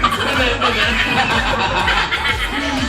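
A voice imitates a duck's quack, repeating nasal, squawking calls in quick succession amid chuckling and a busy, noisy background.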